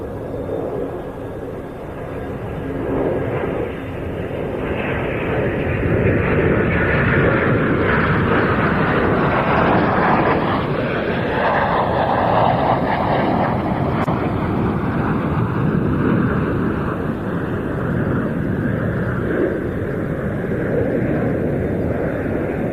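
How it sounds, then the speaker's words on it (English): Three Spanish Air and Space Force Eurofighter Typhoon jets pass overhead at an air show departure, a loud, sustained roar that swells and sweeps past, with wind buffeting the microphone. "the trio of Typhoons coming overhead"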